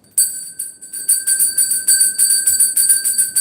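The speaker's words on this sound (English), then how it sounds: "I just need to ring it." A bell rung repeatedly in a steady pulsing rhythm, its bright ringing tones sustained and close, loud and alone without talk.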